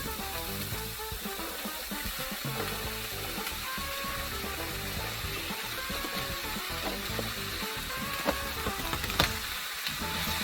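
Cooked rice going into a hot pan for Nigerian fried rice, with a loud, continuous sizzle and frying hiss that fills the whole stretch, plus faint stirring scrapes.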